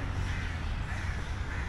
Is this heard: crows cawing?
yes